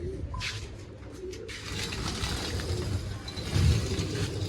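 Pigeons coo at a home loft where newly released birds are kept, soft repeated low coos close by amid light ambient noise and a few brief chirps.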